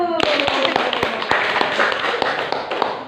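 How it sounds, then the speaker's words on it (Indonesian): A classroom of students claps for a student group, with a few sharp, distinct claps standing out over busy chatter and voices that start partway in and continue throughout. "Beri tepuk tangan untuk kelompok 1."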